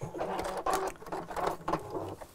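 A domestic sewing machine stitches ribbon onto a drawstring bag, going forward and back, in short uneven bursts of motor whir and needle patter, fairly close and moderately quiet.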